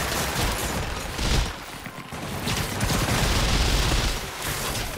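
Enemy gunfire in Marvel's Spider-Man rattles on as a dense, continuous barrage, loud and steady, with a brief dip partway through.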